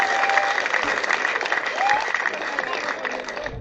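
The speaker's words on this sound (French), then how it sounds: "Je vous demande d'applaudir." An audience claps steadily at a radio station reopening ceremony, a broad wash of applause with a few voices mixed into the crowd.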